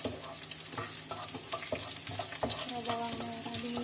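Shallots stir-fried in leftover frying oil in a home kitchen, with a steady close sizzle and repeated scraping and stirring clatter from the pan. No talking.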